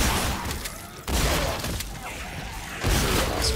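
Gunshots in The Callisto Protocol's Riot DLC: two sharp, loud broadband blasts about two seconds apart, each with a crashing, shattering edge, over a dense rumbling game backdrop.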